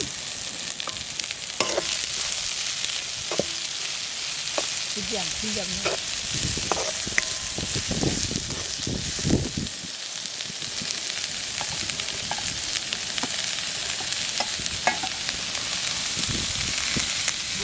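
Cumin seeds sizzling in hot oil in a pan, a dense continuous hiss and crackle, close and fairly loud, with intermittent scraping stirs and no voices.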